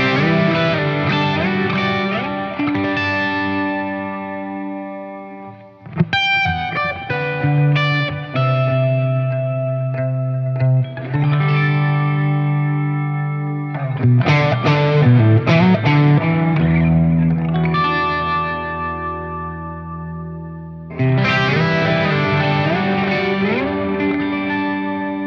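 PRS 594 electric guitar, hollow or solid body, plays a melodic sound sample through effects with chorus, echo and light distortion. Ringing chords and phrases sustain and decay, with several pauses between passages.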